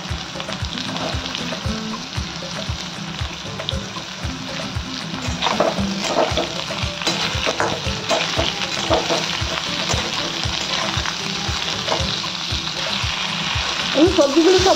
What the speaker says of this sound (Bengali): আমি এবার সব সবজিগুলো ওর মধ্যে ভেজে দেবো।